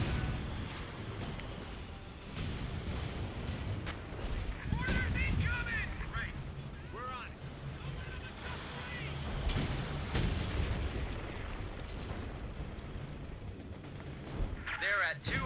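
Artillery and gunfire from a Company of Heroes 2 battle, with rumbling shell impacts and bursts of shots rolling in and out over a continuous low battlefield din.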